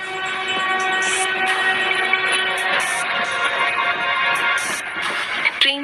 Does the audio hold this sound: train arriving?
yes